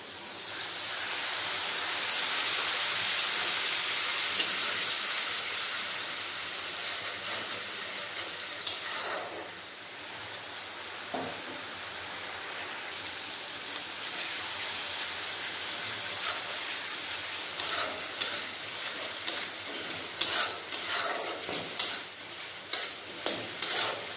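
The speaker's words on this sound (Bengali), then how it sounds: "সরষে পোস্ত ভালোভাবে মশলার সাথে কষিয়ে নিয়েছি" Mustard-poppy paste sizzles and is stirred into fried spices and oil in a pan while a Bengali katla fish curry is cooked. A steady soft frying hiss runs throughout, broken by occasional spoon scrapes and clicks that grow more frequent toward the end.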